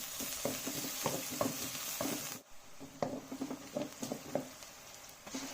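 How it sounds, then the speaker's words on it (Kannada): Onion frying in coconut oil in a pan, a steady bright sizzle with soft rhythmic stirring scrapes throughout, dipping briefly midway before resuming close and clear. "ಒಂದು ಈರುಳ್ಳಿ ಚೆನ್ನಾಗಿ ಫ್ರೈ ಆಗಲಿ."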